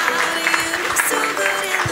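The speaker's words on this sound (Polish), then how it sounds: "To brawa, takie na przełamanie pierwszych lodów." An audience at a local beauty pageant, Miss Ziemi Nowosądeckiej 2019, gives a short burst of applause, a loud continuous rattle of many hands with crowd murmur and background music underneath.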